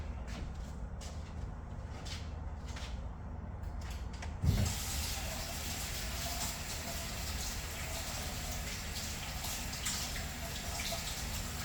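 Tap water runs steadily into a sink during a kitchen baking session for a gooey butter cake, a brief bump near the middle as hands move under the stream, with no talking.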